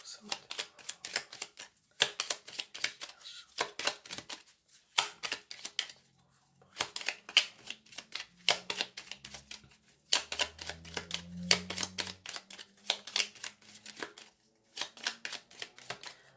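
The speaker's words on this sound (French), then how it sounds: "On va faire un tirage en 9 cartes" Lenormand cards are shuffled and laid out in bursts of crisp clicks and snaps, pausing between runs, while a person talks quietly.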